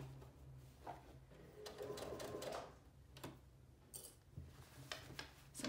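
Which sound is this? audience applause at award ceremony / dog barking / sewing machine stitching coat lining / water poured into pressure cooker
sewing machine stitching coat lining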